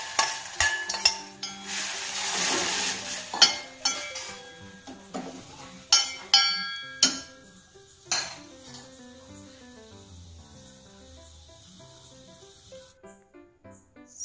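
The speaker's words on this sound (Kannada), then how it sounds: "ಈಗ ಅವರೆಕಾಳನ್ನು ಹಾಕಿ ಸರಿಯಾಗಿ ಕಲಿಸ್ಕೊಳ್ಬೇಕು." Lima beans and salt being stirred in a metal pan, with a clattering scrape and several sharp clinks of a spoon against the pan, followed by quieter intermittent taps and a faint sizzle. No talk.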